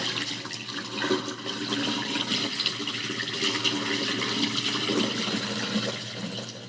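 Rinse water is poured off washed oxtail in a home kitchen, a steady splashing, trickling stream lasting several seconds at moderate level, with no talking.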